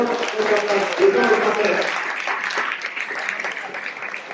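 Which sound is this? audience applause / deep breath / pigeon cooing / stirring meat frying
audience applause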